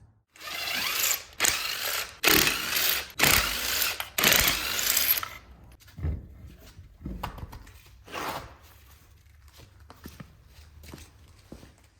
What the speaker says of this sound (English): I'm gonna jack this up, make sure it's nice, safe, and secure